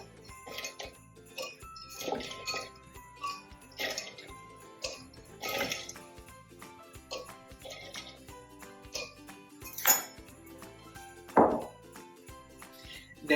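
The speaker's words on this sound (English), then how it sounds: "Now this is the part where I love to add my ice." Ice cubes drop into a shaker for a pineapple-coconut rum cocktail, a series of sharp clinks and rattles scattered irregularly over several seconds, each followed by brief ringing.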